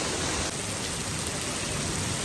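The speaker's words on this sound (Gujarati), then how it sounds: "વરસાદ ચાલુ થઈ ગયો છે" Steady, dense hiss of heavy rain pouring down, constant and fairly loud with no voices.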